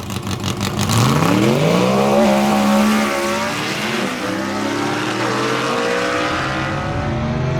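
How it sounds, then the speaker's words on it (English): A small-block drag racing car at Carolina Dragway in Aiken pulls hard down the strip, its loud engine note climbing through the gears and then holding a steady, close, roaring pitch with a hint of tire noise; no one speaks. "Listen to that forward small block get through the big end"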